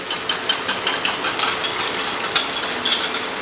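Yogurt (curd) is whisked briskly in a bowl before going into an achari chicken karahi curry, giving a loud, rapid, rhythmic series of clicking and scraping strokes close by, with no talking.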